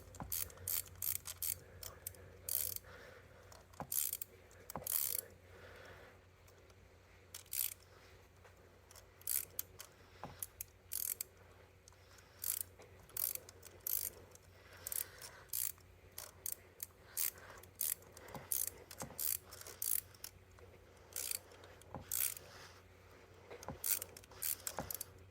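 A ratchet backs a spark plug out of a 2019 Hyundai Santa Fe 2.0L Turbo engine, with bursts of quick, crisp clicking strokes separated by short pauses, fairly quiet and close, with no voices.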